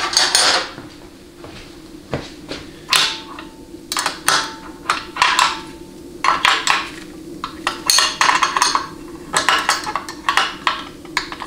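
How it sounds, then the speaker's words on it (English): Metallic clinks and taps from a spacer being pressed on and a 15 mm nut tightened on a 700R4 automatic transmission during a rebuild, a run of sharp irregular knocks and rattles close by. "you're just going to press your spacer on and then tighten up the nut"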